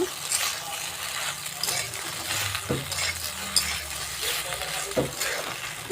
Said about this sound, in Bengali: আমার পাস্তা তো যে ভাজা ভাজা হয়ে গেছে এবার নামিয়ে নেব